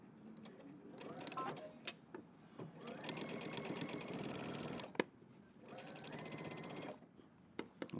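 Sewing machine top stitching a denim jacket at a long 3.5 stitch length, 1/8 inch from the edge: two steady mechanical runs of rapid stitching separated by a brief pause, close and fairly quiet, with a sharp click in the middle.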